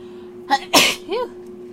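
One sharp, close sneeze with a quick inhale before it and a small vocal sigh right after, over a faint steady hum.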